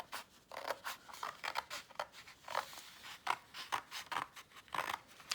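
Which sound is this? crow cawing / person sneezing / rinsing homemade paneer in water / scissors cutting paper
scissors cutting paper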